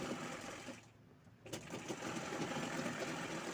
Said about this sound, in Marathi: पहिल्यांदी गळ्याची बाजू शिवून घ्यायची आहे